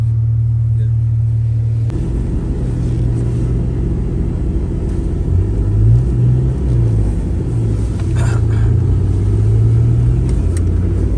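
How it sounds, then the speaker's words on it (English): Inside a 2000 Honda Civic EX driving on the road, a loud, constant low engine and road rumble fills the cabin, with a brief rise and fall in engine pitch as it accelerates. "I'll start driving in the road"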